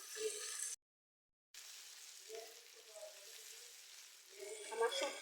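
Dried fish (shutki) fries in oil in a pan with a soft, steady sizzle, broken by a short silent gap and rising to brighter crackles near the end.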